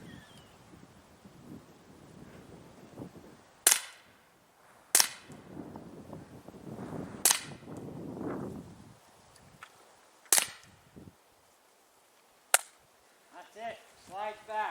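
Daisy Winchester M11 air rifle fired outdoors on a windy, cool day, five or six sharp close cracks spaced a couple of seconds apart, with wind buffeting the microphone and someone talking between shots.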